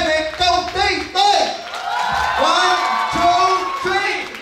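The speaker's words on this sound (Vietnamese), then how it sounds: "dành một tràng vỗ tay thật lớn để chào đón phần thi đầu tiên" An audience at a company gala dinner claps and cheers to welcome the opening performance, with whoops and shouts rising over a loud announcer voice and music.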